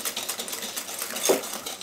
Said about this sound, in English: I'm going to put in 1 egg at a time and whisk it together with butter and sugar.